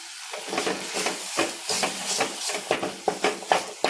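Crackling, sizzling frying of spices, sambar powder, mutton masala and ginger in a pan for a jackfruit seed curry, with repeated scraping stirs, close and steady with uneven bursts.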